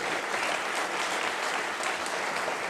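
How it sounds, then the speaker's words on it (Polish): An audience at a stage event applauds, a dense, even wash of many clapping hands that holds steady throughout without voices. "Ogromne brawa."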